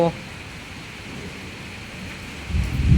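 A sudden heavy rainstorm pours in a dense, unbroken roar, and a deep rumble of thunder swells up near the end.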